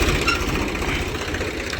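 A tractor engine arriving on a farm for leaf collection, a steady low throbbing rumble with a knocking pulse, fairly close and continuous with no talk.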